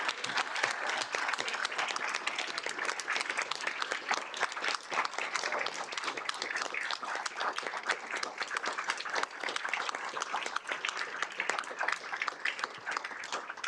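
Sustained applause from an audience at a school board of education meeting honoring long-serving school employees, dense steady clapping filling the room for the whole stretch without letting up.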